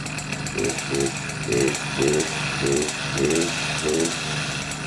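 A small engine idles steadily after a new reed valve install, with no air leaks, giving a rhythmic chugging pulse of about two beats per second alongside a mechanical ticking, close and moderately loud throughout.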